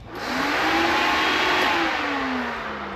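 Electric fuel pump priming in a Suzuki Carry fitted with a turbocharged Hayabusa engine: a steady, close mechanical whine and whir that rises, holds for about three seconds, then gently fades.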